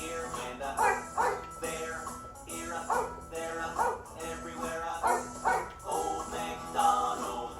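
A child imitates a dog, giving a series of rhythmic woof-woof barks in short bursts, fairly close and clear.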